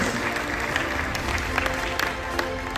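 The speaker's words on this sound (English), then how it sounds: "Please have a big round of applause for principal and all the teachers." Audience applause at a school annual award ceremony for the principal and teachers, steady moderate clapping from a crowd with faint cheering and background voices.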